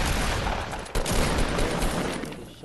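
Rapid video game gunfire rings out in a dense, loud burst of overlapping shots with a brief break near the middle, sounding like a close-range firefight.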